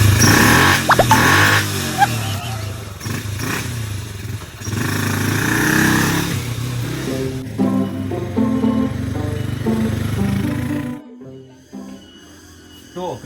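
A motorcycle engine runs close by, its rough rumble and buzzing revs shifting over several seconds before cutting out near the end, with voices mixed in.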